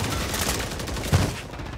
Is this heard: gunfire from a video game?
yes